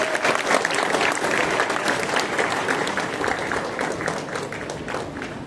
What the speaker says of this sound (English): Kindly have a huge round of applause for them.